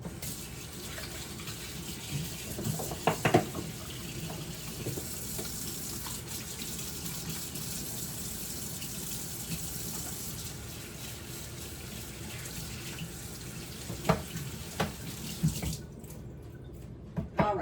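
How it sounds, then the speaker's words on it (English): Water runs steadily from a kitchen sink tap as hands are washed, a continuous broadband splashing hiss with a few brief clatters, cutting off abruptly near the end. "Let me wash my hands real quick"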